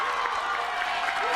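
A sold-out crowd at an Alabama vs Western Kentucky college softball game roars and cheers continuously, a dense wall of voices and clapping that stays loud throughout.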